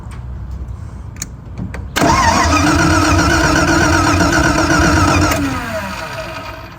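1978 MGB converted to a V8 being cranked with the key, with faint clicks at first, then about three and a half seconds of loud, steady starter cranking that ends and trails off without the engine starting.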